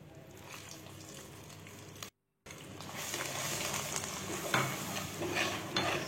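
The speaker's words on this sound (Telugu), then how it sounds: "అదే పెనుములో పోపు వేసుకొని ఈ పుదీనా పచ్చడిని అందులో వేసి" Mint chutney is stirred into a sizzling tempering in a pan, giving steady frying hiss with scraping stirs, briefly cut to silence before the sizzle returns louder.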